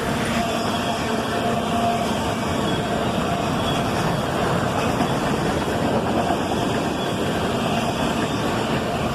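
A CSX freight train rolls past on a Sunday, a steady, loud broadband rumble of wheels and railcars that holds at an even level throughout, with no voices.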